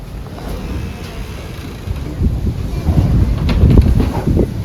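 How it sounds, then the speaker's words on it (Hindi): Strong storm wind buffets the microphone in loud rushing gusts that grow heavier toward the end, a roaring outdoor blast with no voices. "वो देखें कितनी तेज़ हवा है"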